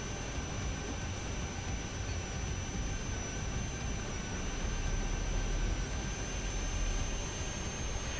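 Jet engines of the Italian Ariete fighter in the War Thunder video game give a steady, dense roar with a thin whine on top. The roar swells slightly louder partway through as the secondary engine comes on.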